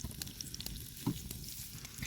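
Fish frying in hot oil gives a steady, dense sizzle with faint crackles and pops throughout, close and continuous.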